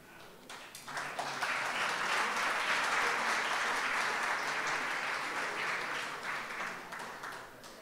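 Strong applause for honorees at a 65th-anniversary ceremony for UCV Televisión, a full, sustained wash of many hands clapping that swells in within a second and holds steady for about seven seconds before easing slightly.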